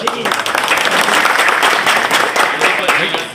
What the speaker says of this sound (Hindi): अमित सक्सेना बहुत तालियां बजाओ